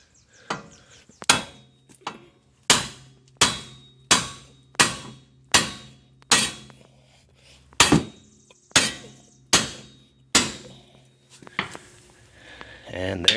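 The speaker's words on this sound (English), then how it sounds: "But we'll give this a few whacks," Hammer blows strike the steel knuckle of a 2004 Ford Explorer 4x4 to pop loose a front ball joint, about a dozen loud, sharp metallic whacks spaced roughly a second apart, each ringing briefly before the next.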